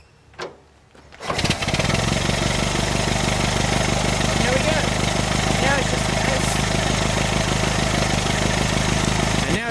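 A Ford Model T engine is started by hand crank: a brief mechanical clunk or two, then the engine catches and settles into a loud, steady, rattling idle that runs on without letup.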